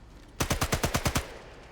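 A sharp burst of about nine rapid SMG shots in the Sniper Elite: Resistance video game, loud and close in an even rhythm, with nothing else heard.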